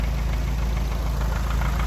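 A car engine that needs a rebuild idles with a steady rumble and rhythmic knocking, its lifters and timing chain tensioner faulty, heard close and continuous.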